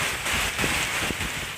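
Heavy rain with strong wind over the city of Bogor, West Java, a loud, dense roar of downpour with gusting rumble, steady and close throughout.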